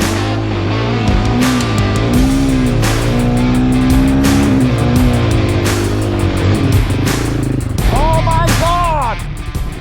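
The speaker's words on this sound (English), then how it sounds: "So Niels was the only one that raced up that hill with the proper tires, and man was it impressive" A Royal Enfield Bear 650 motorcycle climbs a hill off-road through Sweden, its engine loud and close, rising and falling in pitch as the rider revs hard and shifts through the climb.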